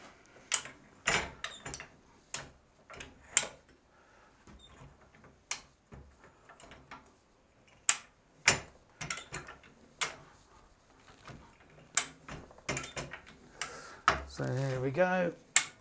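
A jack winds up a 960 lb steel crossbow for a draw-weight test, making sparse, sharp metallic clicks and ratchet ticks in an otherwise quiet room, with a short burst of louder mechanical rattling near the end.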